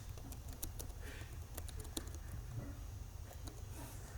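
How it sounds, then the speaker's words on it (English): Faint, irregular clicks of keys on a computer keyboard as someone types a short search, quiet and close over a steady low hum, with no talking. "And type in Panasonic drivers."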